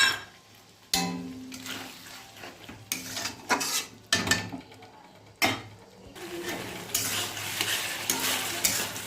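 Spice paste with softened tomatoes frying in a pan for a mustard and coriander fish curry, with a little water added, bubbling and sizzling under sharp spoon scrapes and clanks against the pan, close up, with no voices.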